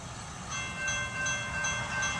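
CSX freight train Q251, led by BNSF locomotive 8363, rumbles past at a moderate distance, a low, steady rolling roar with faint tonal ringing above it, fairly quiet overall.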